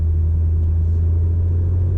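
A BMW 1M's engine in sport mode with overboost gives a steady, loud low rumble heard from inside the car, droning evenly without a break.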